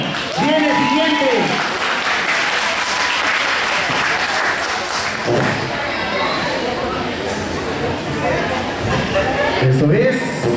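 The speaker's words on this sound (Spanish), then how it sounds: "las madres, un aplauso" At a Mexican folklórico dance fiesta honoring mothers, the crowd claps steadily for the mothers, loud and continuous, with voices talking and light laughter mixed in over the applause.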